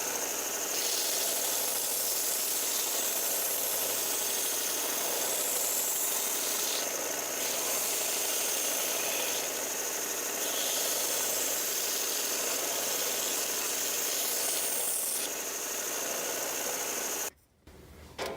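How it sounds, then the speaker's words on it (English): Sustained high whirring grind of a sander shaping a cut-out 2x4 glide bait, steady and loud for a long stretch with slight swells as the wood is pressed in, cutting off abruptly near the end. "I'll have to take it to the sander."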